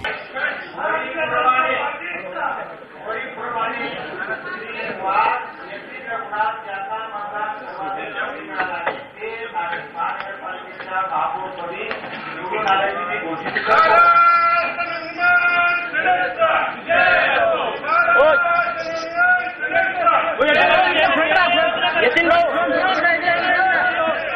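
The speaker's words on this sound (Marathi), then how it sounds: "मनसेचा जल्लोष, महाराष्ट्र नवनिर्माण सेनेचा विजय असो अशा घोषणा सध्या नाशिकच्या सभागृहामध्ये दुमदुमतायत।" Maharashtra Navnirman Sena supporters cheer and chant slogans inside a hall in Nashik, a dense, continuous crowd roar of overlapping voices that swells louder in the second half.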